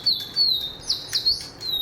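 A Digi Birds toy talking bird chirps, a run of high, thin electronic tweets repeating in quick bursts close to the microphone with no talk.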